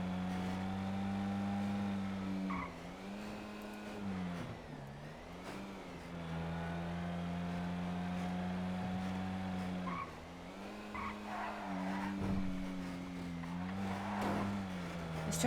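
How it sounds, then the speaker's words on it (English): A loud truck engine runs at a steady drone that rises and dips as it revs, close and continuous for the whole stretch, with no talk over it. "This truck is so loud."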